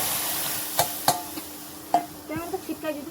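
Dal is poured into hot tempering oil and sizzles, with a few sharp clinks of a utensil against the pan and a soft crackle rising near the end.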